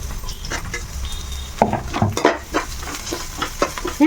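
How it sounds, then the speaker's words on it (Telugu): Small pieces of garlic fry in hot oil in a pan, with a steady sizzle under repeated scraping and clinking from a utensil stirring against the metal, close and fairly loud. "మనకి ఎల్లుల్లిపాయ వేగిపోయిందమ్మా"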